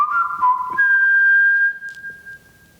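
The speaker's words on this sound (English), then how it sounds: "If we whistled, could we hear the reverberations in here? Sure. Could you do a little whistling?" A person whistles a short wavering phrase, then holds one long sustained note that lingers and fades in a reverberant church.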